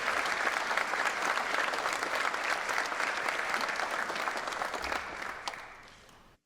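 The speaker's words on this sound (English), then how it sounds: "A round of applause for Fred and the foundation and his wife, Angela" Warm, steady applause from a crowd at a tribute event honoring Fred Biletnikoff, his foundation and his wife, continuous clapping that fades out near the end.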